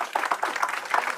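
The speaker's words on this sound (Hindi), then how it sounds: "जोरदार तालियां।" A brief burst of crowd clapping at a village political gathering in Khatiwas honouring Rao Dan Singh, several quick loud rounds of hand claps packed into about a second.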